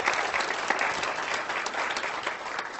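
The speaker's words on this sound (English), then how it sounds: "Give them a round of applause." An audience claps steadily throughout, a dense, continuous wash of applause at a hypnosis training session, with no talk over it.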